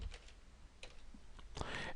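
Typing on a computer keyboard while writing paragraphs in Microsoft Word 2007, a steady run of soft, close key clicks with small bursts and brief pauses, with no voices.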